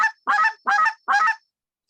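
A short reed goose call blown in quick rolling notes produces four loud, close, honking goose-like clucks in an even rhythm, followed by silence.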